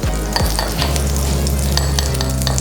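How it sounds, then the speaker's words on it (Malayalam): Butter and refined flour sautéing in a pan for a roast chicken sauce: a steady close sizzle with repeated scraping strokes of a spoon stirring through the mixture, no voices. "നമുക്ക് നന്നായിട്ടൊന്ന് സോട്ട് ചെയ്യാം."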